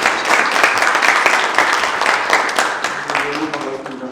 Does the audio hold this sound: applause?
yes